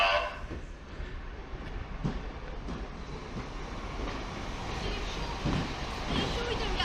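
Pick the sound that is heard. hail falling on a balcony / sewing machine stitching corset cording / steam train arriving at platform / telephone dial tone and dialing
steam train arriving at platform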